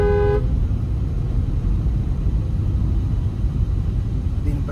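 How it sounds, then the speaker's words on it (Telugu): A Mercedes-Benz dual-tone Clarton horn fitted to a Volkswagen Vento gives one short, loud blast at the very start, followed by a steady low rumble of the car. "చాలా లౌడ్ వస్తుంది ఈ హార్న్ అనేది అసలు మనకి."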